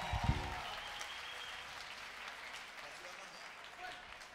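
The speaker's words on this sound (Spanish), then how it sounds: "yo creo que ese es un aplauso más fuerte, se lo merece" A crowd applauding steadily, a brief voice at the start, the clapping fading slightly toward the end.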